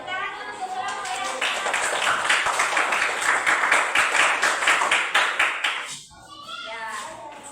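Classroom of children clapping for a presenting group, a dense burst of many hands that stays steady for about six seconds, then thins out and stops, with a little chatter mixed in.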